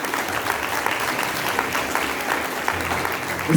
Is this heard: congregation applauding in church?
yes